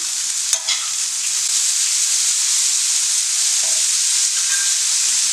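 Beetroot pieces with salt stirred in a hot pan, giving a loud, steady frying hiss with a couple of brief scrapes near the start.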